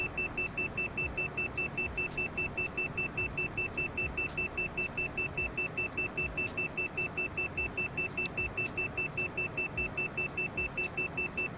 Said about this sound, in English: So the beeping is just because of the speed.